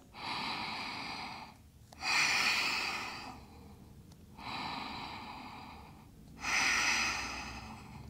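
Slow, deep breaths during an intermediate vinyasa yoga flow, four long audible inhales and exhales in a steady rhythm, close to the microphone with no talking.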